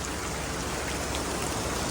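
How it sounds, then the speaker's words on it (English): Steady rain begins to fall outdoors beside a 1972 Mercury Comet, a dense, even hiss of drops on surfaces with no distinct individual impacts, moderately loud and continuous. "Here comes the rain."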